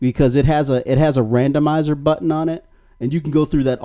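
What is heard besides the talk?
No everyday noises stand out.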